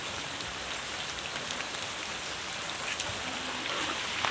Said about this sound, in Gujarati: વરસાદ પડે છે અમારે ત્યાં.